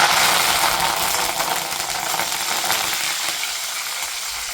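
Curry leaves frying in hot oil, a loud, close, crackling sizzle that bursts at the start and then settles into a steady hiss, with no talking.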